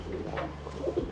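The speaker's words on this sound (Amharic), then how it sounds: "ሞር ፋንሲ ከሆኑ እርግብ ዝርያዎች ውስጥ አንዱ ነው።" A Bokhara Trumpeter, a fancy domestic pigeon breed, coos in low, soft, repeated murmurs close by, with a steady background hum and no talk.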